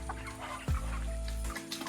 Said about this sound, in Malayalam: കോഴി ഉഷാറായടോ.